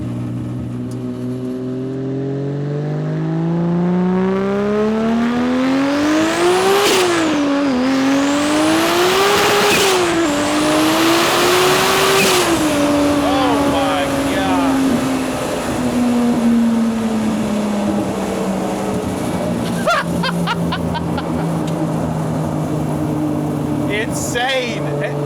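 A 1978 Datsun 280Z with two-step launch control revs hard at partial throttle. The loud, close engine note climbs and dips a few times, then settles into a sustained high drone that slowly falls away.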